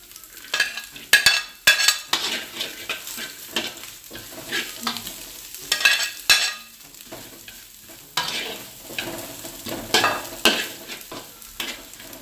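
Nasi goreng with pork, dried shrimp, leek and carrot being stirred and fried in a pan, with scraping strokes in an irregular rhythm over a steady close sizzle, and no one talking.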